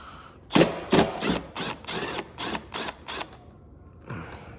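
Ratchet with a 10 mm socket working a bolt on a 2009 Yamaha Raptor 700R ATV, about eight quick clicking bursts in a steady rhythm, close and fairly loud, followed by a pause and one last burst.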